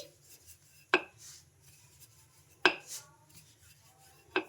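Rumali paratha dough dusted with rice flour is rolled out on a board, giving three sharp, separate wooden knocks and thumps spaced over a few seconds, with quiet rubbing between them.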